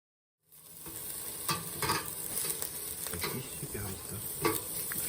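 Marinated fish steaks sizzle on a Lidl barbecue with active ventilation, a steady close crackling hiss with sharper pops and spits rising at intervals, no talk over it.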